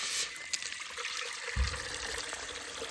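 Water is poured into a pot for Maggi noodles on a riverbank in Nashik, a faint splashing trickle over quiet outdoor background noise, with a slightly fuller gush partway through.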